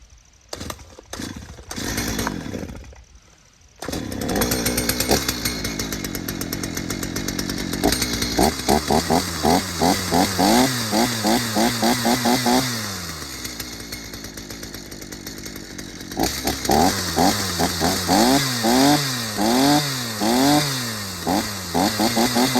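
A 54 cc Homelite 340 chainsaw with a freshly sharpened 20-inch bar starts and idles, then revs hard through repeated rising and falling bursts as it cuts into wood, loud and close throughout.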